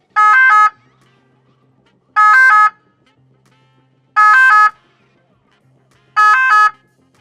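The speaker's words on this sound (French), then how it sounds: "les véhicules d'intérêt général qui bénéficient de facilité de passage ont une sirène" A French priority-access vehicle sounds its three-tone siren in four loud, evenly spaced bursts of rising tones, each about half a second long, separated by near silence with a faint low hum.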